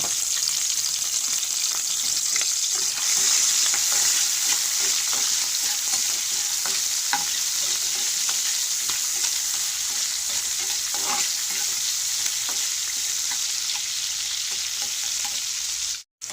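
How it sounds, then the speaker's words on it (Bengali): Shrimp fry in hot oil in a wok with a loud, continuous crackling sizzle. It holds steady for about sixteen seconds and is close up, with occasional light stirring ticks and no talk. "চিংড়ি মাছগুলো আমার ভাজা হয়ে গেছে"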